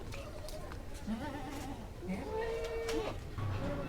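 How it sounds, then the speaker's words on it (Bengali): Goat of a Totapuri and Beetal cross bleating several times in short wavering calls at a farm, fairly close, amid background murmur and people talking. "সুপার কোয়ালিটি একটি ছাগল দেখতে পাচ্ছি"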